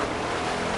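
A boat engine churns through water in a video game, a steady, dense rumbling roar with splashing wash, continuous and close throughout.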